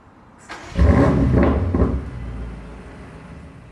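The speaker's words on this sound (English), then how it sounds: "There's a lovely little bark and pop and bang at the end of that." BMW M5 Competition in Sport Plus mode starting up, a sharp loud bark from the sports exhaust with a quick pop, then settling into a lower idle rumble.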